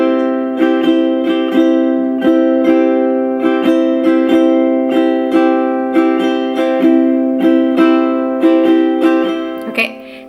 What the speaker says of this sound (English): a really popular pattern is the island strum